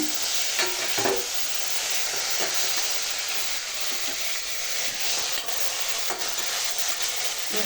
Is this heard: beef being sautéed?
yes